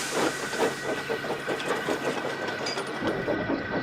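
Steam engine on a railway line in an animated children's show, chuffing in a quick rhythmic series of hissing puffs up close, with no talking.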